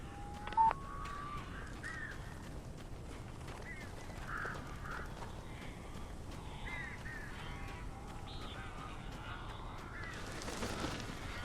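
Crows caw in the Alan Wake video game: faint, scattered calls repeat over a low murky ambient background, with a brief sharp tone near the start.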